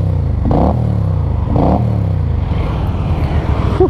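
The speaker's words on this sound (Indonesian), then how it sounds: "Untuk suara knalpotnya seperti ini ya." A Keeway V250Fi 250 cc V-twin motorcycle idles loudly up close, its exhaust giving a lumpy, uneven throb punctuated by two short throttle blips before settling back to idle.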